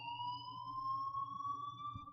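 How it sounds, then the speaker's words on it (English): School fire alarm in the Life Is Strange video game, a steady electronic tone holding one pitch continuously and moderately loud throughout, with a faint low hum underneath. "please turn off that alarm since that's your job."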